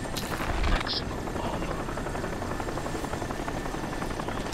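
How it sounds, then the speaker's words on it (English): A helicopter hovers nearby in the video game Crysis, its rotor beating in a continuous thudding drone with a faint buzz and a few brief sharp noises early on. "I hate when I can't even see the helicopter. So I don't know what's going on. I just can hear him hovering around us somewhere."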